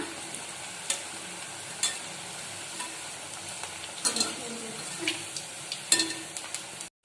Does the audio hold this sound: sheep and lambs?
no